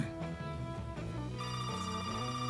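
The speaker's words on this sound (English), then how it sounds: "Can you hear the phone, please?" A telephone rings with a tonal electronic warble in a TV drama scene, steady and moderately quiet for a few seconds, no voices.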